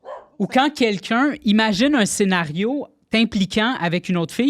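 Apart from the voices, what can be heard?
dog barking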